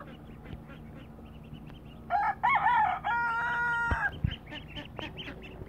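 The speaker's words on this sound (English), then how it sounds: "Let's Picket, the dumb rooster." A rooster crows among a backyard flock of chickens and ducks, a loud harmonic call in the middle of the clip with softer clucks and bird calls around it.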